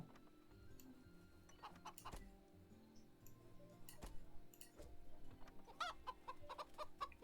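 Chickens cluck in short bursts amid scattered clicks and ticks, fairly faint, over a low electronic hum typical of game audio, from the game Stonehearth.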